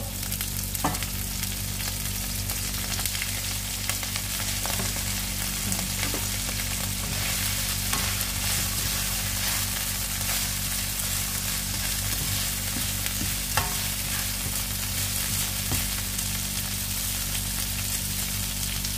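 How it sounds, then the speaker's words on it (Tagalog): Tough kangkong (water spinach) stalks fry in a pan with a loud, steady sizzle. Faint stirring taps are heard throughout, and no one speaks. "Isunod na natin ang mga stock sa kangkong kasi matigas ito."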